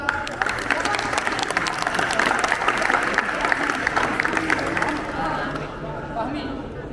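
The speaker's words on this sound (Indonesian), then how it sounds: "Tepuk tangan buat" Audience at a school community-safety outreach session clapping for a student named Fahmi, a dense patter of applause that fades out toward the end, with chatter mixed in.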